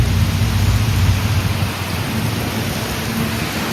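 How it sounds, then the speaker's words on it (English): Heavy rain pours steadily close by while sheltering under a tree in Tennessee, a loud continuous hiss with a deep rumbling undertone. "this tree, which is saving us from that rain."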